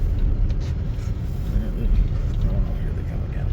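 Cars passing along a road beside a partly frozen river-fed lake, a steady low rumble throughout with a faint, continuous engine wash and no distinct single pass.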